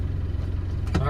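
A 1992 Land Rover Defender 110 with the 200Tdi diesel engine idles steadily after starting, a low, even rumble throughout, with a brief burst of other sound near the end.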